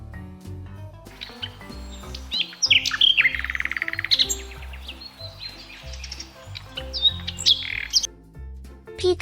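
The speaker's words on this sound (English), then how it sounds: "Nightingale." A nightingale sings a run of quick chirps, whistles and trills, loud and close, layered over a steady low background drone with no voices.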